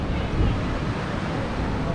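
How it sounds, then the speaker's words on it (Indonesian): Steady roar of beach surf and waves in Canggu, Bali, a broad continuous wash with wind buffeting the microphone and no distinct breaks. "ini situasi pantai hari ini"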